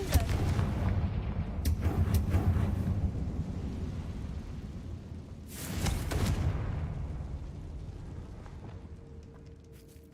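Confringo spell blasts in Hogwarts Legacy, heavy booming explosions with rumbling tails, a large burst at the start and another near six seconds, over a continuous low game rumble.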